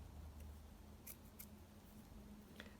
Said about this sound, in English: let me just snip this down